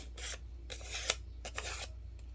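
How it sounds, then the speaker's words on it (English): Soft rasping rubs of fingers curling the wings of a folded paper airplane, a few short scraping strokes close up with brief pauses between them, no talk. "So just use my finger to curve the wings."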